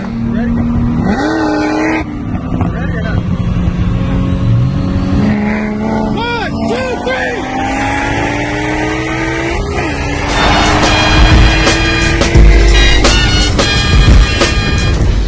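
A Toyota Supra and a Corvette ZR1 race side by side, a loud, close engine drone rising in pitch through revs and gear changes as the cars accelerate hard, continuous throughout.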